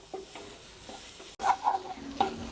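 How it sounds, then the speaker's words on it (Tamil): Pepper rasam masala sautés in hot oil as a spoon stirs it, giving a soft continuous sizzle with a few scraping strokes, heard close and without talk. "இப்போ இந்த மசாலாவை இதில் சேர்த்து நல்லா வதக்கிக்கலாங்க"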